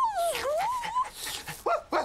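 A cartoon dog whimpers and whines in a long wavering high cry, followed by two short yelps, close and fairly clear.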